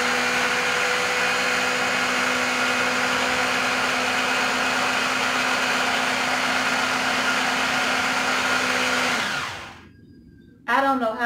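An electric blender whirs steadily as it mixes raw eggs, a loud, even motor whine lasting around nine seconds before it spins down and stops, followed by a short clunk.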